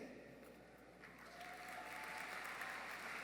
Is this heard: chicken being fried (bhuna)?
no